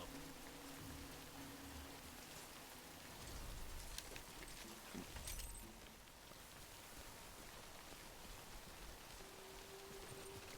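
Steady rain in a video game, a constant broadband hiss of falling water that holds evenly throughout at a soft, distant level, with no talking over it.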